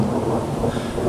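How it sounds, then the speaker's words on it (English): Thunder from an approaching storm in the Lakes Region of New Hampshire, a brief continuous low rumble with rain noise mixed in, fairly loud and with no talking. "as you can hear that thunder, that means that there is lightning happening higher up in the atmosphere"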